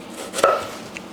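A kitchen knife cuts through vegetables on a cutting board while they are sliced for lechon kawali and monggo, giving one crisp, close chop and a faint tap afterward in a quiet room.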